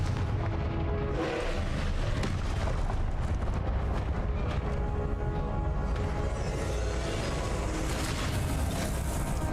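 Repeated Confringo explosive spell blasts in Hogwarts Legacy boom and crackle densely throughout, loud rumbling impacts layered with other combat noise.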